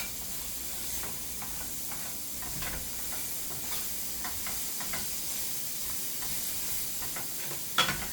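A spatula stirs food in a hot frying pan, with a steady sizzle and hiss underneath a string of light scraping strokes throughout.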